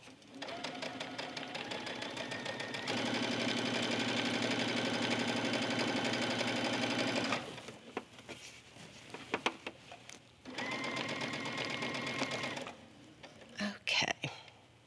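A sewing machine stitches a facing seam on a pom pom tunic in long steady runs, a fast even mechanical whir that stops and restarts, with brief pauses and soft handling noises between.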